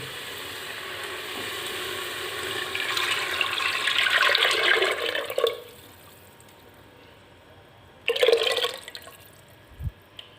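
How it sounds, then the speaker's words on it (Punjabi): A burst of sizzling as green chickpea kadhi is poured into a hot pan of tempering, hissing for several seconds, then quiet, followed by a second short sizzle and a light clink. "ਹੁਣ ਆਪਾਂ ਜਿਹੜੀ ਕੜੀ ਹੈ ਇਹ ਵਿੱਚ ਪਾ ਦੇਣੀ ਹੈ"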